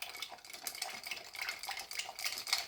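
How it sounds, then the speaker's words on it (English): A spoon stirs a Negroni cocktail over ice, a soft continuous clinking and rattling of cubes against the glass, close and fairly quiet, with no talking. "And we take our spoon and stir."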